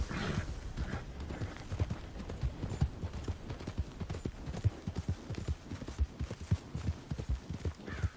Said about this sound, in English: now that I've gotten on my horse